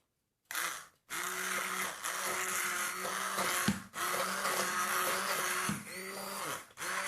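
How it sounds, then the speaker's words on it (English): An immersion blender purees cooked apples into applesauce in a pan, a loud steady motor whir with two brief stops and restarts, running alone without talk. "I have an immersion blender. So I'm going to start blending it up."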